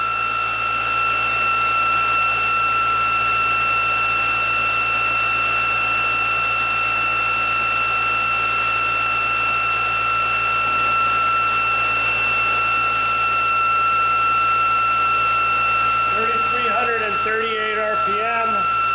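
An electric motor acting as prime mover of a so-called perpetual motion machine runs at about 3,485 RPM on 560 watts, a steady loud whine with fixed tones throughout; a voice talks briefly near the end.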